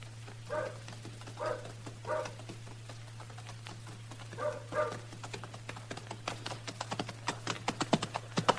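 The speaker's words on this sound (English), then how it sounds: "I brought your horse back, Marshal. He's been running hard." Faint, steady clip-clop of horse hooves approaching in a 1953 radio drama, the rhythmic beats growing quicker over a low constant hum.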